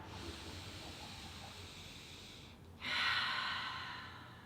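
Slow, deep breaths during a foam roller stretch behind the shoulders: a long soft airy inhale, then a brief pause and a stronger breathy exhale that fades gradually, close and quiet.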